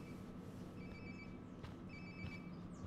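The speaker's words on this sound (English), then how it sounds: "Sounds like my phone is definitely nearby." A phone rings nearby in the game Life is Strange: Before the Storm, giving a faint, repeating two-part electronic trill against quiet ambient background noise.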